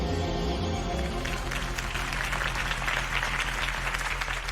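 Steady video game crowd applause and cheering fill the whole clip, a dense wash of clapping with a low rumbling background underneath.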